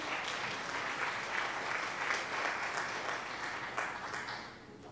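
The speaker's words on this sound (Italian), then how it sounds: "vai, un bel applauso." Dense applause rolls on in a steady wash of many clapping hands inside the Toy Tinker Simulator game, holding level before thinning slightly at the very end.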